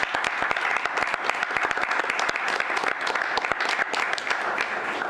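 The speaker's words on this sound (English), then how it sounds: "it was so great to have that grand round of applause" A city commission meeting audience gives a full, steady round of applause, dense and continuous, with rapid overlapping claps throughout and no talking.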